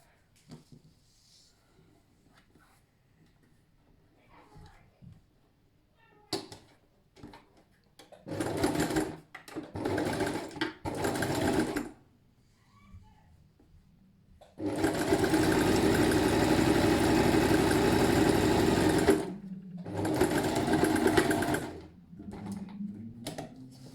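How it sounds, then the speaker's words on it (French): A sewing machine stitches the final seam of a fabric face mask in several loud mechanical bursts, the longest a sustained run of several seconds, separated by quiet pauses with faint handling noises. "Et ça, c'est la dernière couture à faire et votre masque est cousu."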